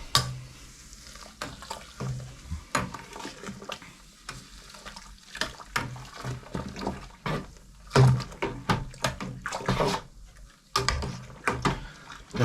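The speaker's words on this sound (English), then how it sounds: "Let's get some more in. Give that a bit of a stir." Grist is stirred into mash water during a home beer brew. Irregular wet sloshing and scraping come in bursts close by, with intermittent knocks throughout.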